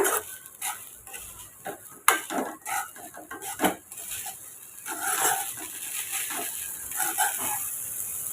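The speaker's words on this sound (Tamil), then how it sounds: "இப்போ இதை நல்லா மிக்ஸ் பண்ணி விட்டுக்குங்க" Fried rice tossed and stirred with crushed black pepper in a pan, giving irregular scraping and clattering strokes of a spoon against metal, close and fairly loud, with no talking.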